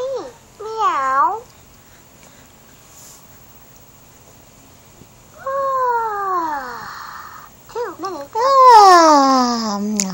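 A voice meows several times in high, wavering cat-like cries, imitating a cat, with short pauses between the calls.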